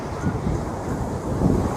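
Atlantic Ocean surf and wind on the beach at Fort Lauderdale, a dense continuous roar with gusty rumble buffeting the microphone and no clear breaks.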